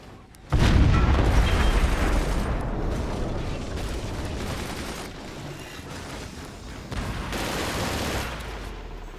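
Artillery from a howitzer booms in the Forts video game, a heavy blast followed by a long rumbling, crackling barrage of explosions that slowly fades, with a second smaller burst near the end.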